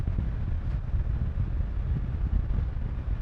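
Heavy buffeting wind rushes across the microphone on a Honda Transalp motorcycle riding on a windy day, a loud, continuous low roar with irregular gusty surges and no voices.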